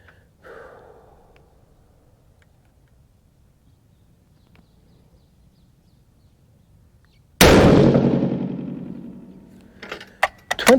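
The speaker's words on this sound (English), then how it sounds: "And today we are shooting Hornady brass with a Winchester large rifle primer." A single sharp, loud 6.5 PRC rifle shot loaded with Hornady brass and a Winchester large rifle primer, cracking suddenly out of near silence and followed by a decaying boom and a few brief clicks.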